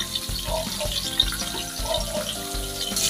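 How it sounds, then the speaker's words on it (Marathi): Bangda mackerel fry in hot oil in a pan over high gas, giving a dense, continuous sizzle and crackle that holds steady throughout at close range. "आपण हे 2 ते 3 मिनटं एक साईडने आपण फ्राय करून घेऊया."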